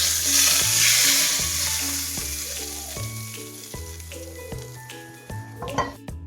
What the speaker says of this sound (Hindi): अब हम इसको दाल के ऊपर डाल देंगे।